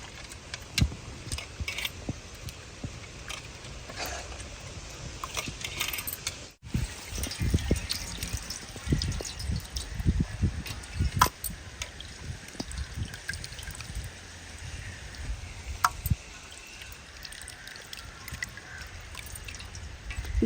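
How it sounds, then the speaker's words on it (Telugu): Water poured from a glass into a pot for a tamarind fish curry with boche fish, a long steady splashing trickle with dripping and light clinks, close and continuous with no talk. "ఇప్పుడు మళ్ళీ నేను ఒక 2 గ్లాసుల వరకు పోస్తున్నాను"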